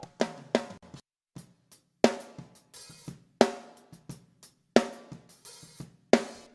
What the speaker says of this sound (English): We have my snare raw.